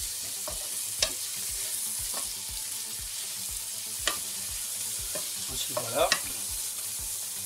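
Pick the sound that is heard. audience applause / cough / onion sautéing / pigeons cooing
onion sautéing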